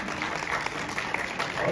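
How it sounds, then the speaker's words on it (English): Audience at a realty summit in Arlington, Texas, clapping in a continuous, fairly even patter that fills the room, with a faint voice or murmur mixed in. "By round of applause."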